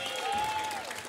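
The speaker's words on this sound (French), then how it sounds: "un tonnerre d'applaudissements pour Madame Julie Zenati." Dense crowd applause for a singer at a Corsican music party, a brief steady wash of clapping with a faint tone running through it.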